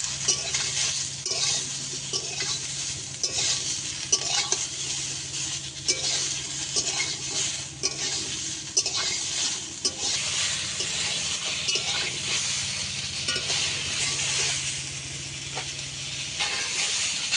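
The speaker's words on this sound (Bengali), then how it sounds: "হালকা করে ভেজে নেব হলুদ গুঁড়ো দিয়ে দেব" Poppy seeds fry lightly with turmeric in a pan, giving a steady soft sizzle broken by regular scraping strokes of a stirring spoon, heard close up without speech.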